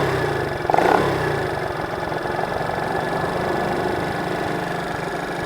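A motorcycle engine idles a little too high, a steady close mechanical putter with a brief blip of revving near the start, continuing evenly without talk.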